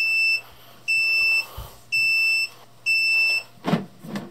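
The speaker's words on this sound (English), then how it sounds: "It's beeping now." Four evenly spaced high-pitched electronic beeps from an Anycubic Photon Mono resin 3D printer sound loud and close, each lasting about half a second, followed by a brief rustle.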